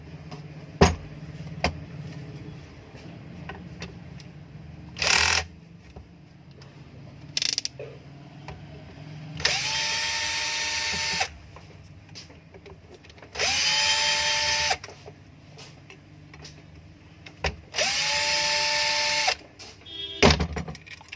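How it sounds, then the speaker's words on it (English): A Makita screw gun drives out screws in three long, even whirring bursts of a few seconds each, with short clicks and handling knocks between them and no talking. "I will be open this screw with this screw gun"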